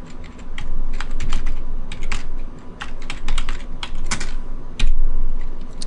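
Rapid typing on a computer keyboard, keys clacking in quick irregular bursts with brief pauses, close and fairly loud, no voices.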